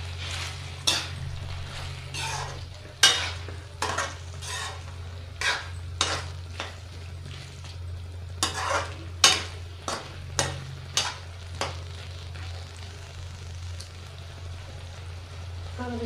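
A spoon stirs fried potatoes into an oily spiced potato curry in a pan, giving irregular metallic clinks and scrapes over a soft sizzle and a steady low hum from the stove.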